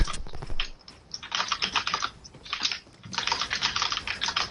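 Rapid typing on a computer keyboard during a Fortnite live stream: dense clusters of clicking keystrokes in bursts separated by brief pauses, close and fairly loud, with no talking.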